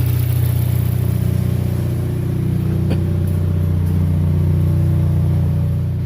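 Chevrolet HHR engine running steadily close by, with a strong low hum that swells slightly as it revs a little, a continuous drone with no talking.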